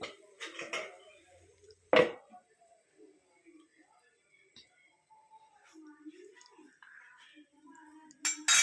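A lid clanks down over a dosa pan while a finger-millet (ragi) dosa cooks, giving one sharp metallic knock. Faint kitchen clatter follows, and a second rattle comes at the end.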